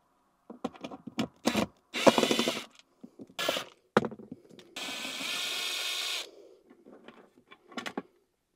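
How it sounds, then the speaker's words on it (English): A Ryobi cordless drill fitted with a 3/8 bit bores a hole inside a 2017 Chevy Silverado LT to route wiring. The drill whirs in a few short bursts and then one longer sustained run, with clicks and handling noise between them. "I'm going to drill that hole in there, route the wires down"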